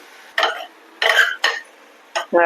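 Spoon stirring and mixing undhiyu ingredients with chopped tomato in a pot, several short scraping, squelching strokes separated by brief pauses.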